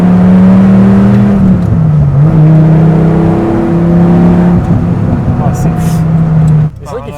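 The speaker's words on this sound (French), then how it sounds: "quand tu mets gaz, c'est un bon V10 boîte méca" A Dodge Viper SRT-10 with a V10 engine and manual gearbox accelerates hard, its loud rising engine note heard from inside through gear changes and cutting off near the end.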